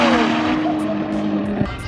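An 1800-horsepower twin-turbo Dodge Viper and a Nissan GT-R roar together at a drag race, loud and close, with rising engine whine and tire noise and faint voices in the background.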